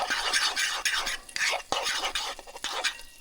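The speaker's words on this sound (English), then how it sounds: "I'm going to go ahead and stir it up just a little bit more." Beaten eggs are stirred in a bowl, a close, rapid series of wet scraping swishes and light clicks of a utensil against the side, with no talking.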